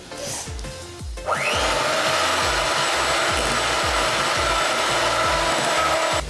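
An electric hand mixer whirs steadily and loud through cupcake batter of milk and flour, the beaters knocking against the bowl in a repeating rhythm after a brief start-up.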